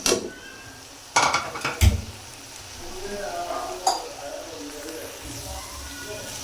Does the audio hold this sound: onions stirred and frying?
yes